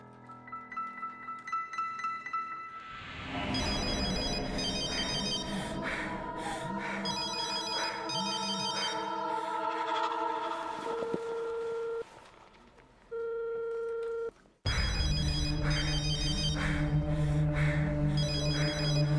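A telephone rings on and on without being answered, a bright, repeated electronic ring tone that is loud and close and stops only briefly before starting again.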